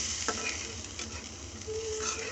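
Onion paste frying in hot oil, a steady close sizzle with light stirring scrapes through the short stretch and no voices.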